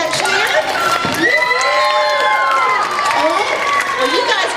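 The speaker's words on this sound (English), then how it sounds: "let's give them a great big wildcat cheer" Children at an elementary school morning assembly give a big wildcat cheer, a loud, sustained crowd of young voices shouting and whooping together for several seconds, with rising and falling yells.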